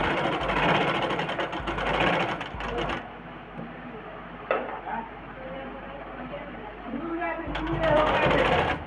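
Domestic sewing machine stitching a blouse, bursts of fast rattling needle motor with pauses and a quieter stretch mid-way, picking up again at the end, close and loud.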